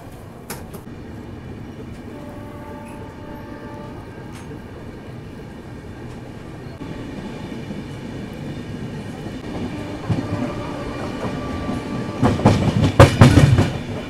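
The Ganga Kaveri Express pulls away from Ghazipur City, heard from inside a 3rd AC coach as a low rolling rumble with faint clicks that grows louder and rattles near the end.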